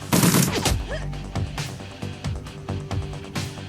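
Bursts of submachine gun fire from the Shadowrun Returns tactical game, several short volleys spread across a few seconds with a sharp burst at the start, fairly loud over game ambience.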